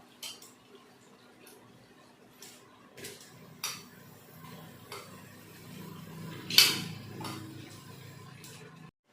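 Chicken leg pieces washed with turmeric are added to a pot of fried tomatoes for biryani, heard as scattered clinks and knocks of a utensil against the pot, with one sharper clatter, over a quiet background.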